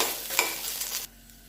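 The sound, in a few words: garlic sautéing with chillies and peanuts in a pan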